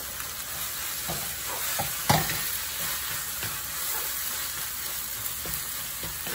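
Shredded beef and tomatoes fry in a pan for Indonesian balado, giving a steady sizzle with repeated spatula stirs and scrapes knocking through at irregular intervals, close up and without talk.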